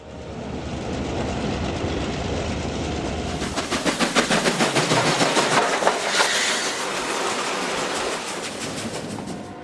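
An HO scale model train headed by an RS-11 locomotive rolls past up close, its wheels clicking in a fast, even rhythm over a steady running hum.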